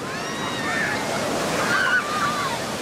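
Ocean waves wash onto a beach during a Holy Saturday outing, a steady roar of surf and wind noise with faint distant shouts and voices over the top.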